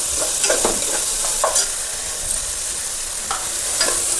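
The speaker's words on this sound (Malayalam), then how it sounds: "പച്ചമുളക് ഇട്ട് കൊടുക്കാം." Four green chillies sizzle in hot oil in a pan of garlic egg fried rice, a steady bright hiss with scattered spoon scrapes and stirring knocks at irregular intervals, close and fairly loud, with no talking.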